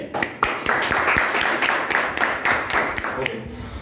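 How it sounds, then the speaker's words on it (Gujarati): Audience clapping in a school gathering welcoming students, a steady patter of many hands applauding throughout, fairly even in loudness. "તો આ મિત્રોનો આપણે તાળીઓથી સ્વાગત કરીએ"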